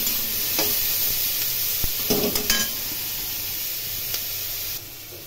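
Chopped tomato with green chilli frying in a pan, a bright, steady hiss with a few clinks and scrapes of a spoon against the pan partway through.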